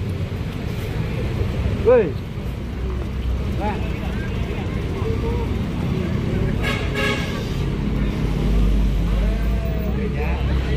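An intercity bus bound for West Sumatra pulls out of the Pondok Pinang terminal, its low engine rumble steady and moderately near, with a brief horn toot early on, amid busy terminal ambience and people talking.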